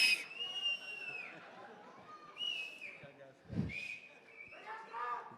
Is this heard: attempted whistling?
yes